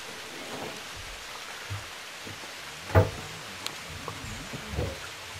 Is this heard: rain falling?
yes